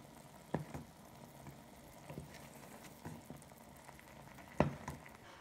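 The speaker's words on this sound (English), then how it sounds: "it is forming into a rolling boil, a lot of bubbles, and it is white bubbles" Hair gel mixture bubbling at a rolling boil in a pan on a stove, a low steady simmering texture with a couple of sharper pops standing out, fairly quiet throughout.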